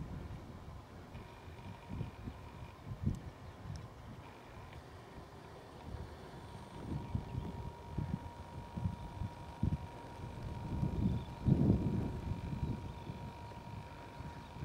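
Breezy wind buffeting across open chalk downs above Glynde on a summer walk, a steady low rush that swells into stronger gusts toward the end, with no voices.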